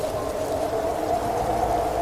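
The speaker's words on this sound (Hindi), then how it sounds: "कितनी तेज बारिश हो रही है।" Heavy rain falls in a constant, even hiss with a steady patter, fairly loud and unbroken, with no voices.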